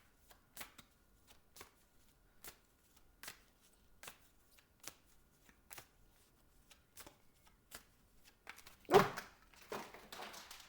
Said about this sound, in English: I've just dropped half the cards